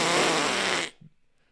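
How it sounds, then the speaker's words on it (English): A single loud, raspy fart, close and buzzing for just under a second before cutting off into near silence. "Sounds like it's got to be a fart."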